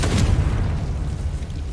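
Deep, rumbling blast of the Confringo fire spell in Hogwarts Legacy, a loud booming burst that lingers as a low, rolling roar through the whole short moment.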